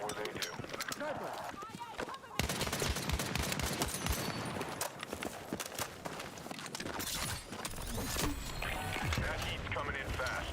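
Rapid bursts of gunfire in a Battlefield 6 battle royale match, dense and continuous over nearly the whole stretch, mixed with game voice callouts.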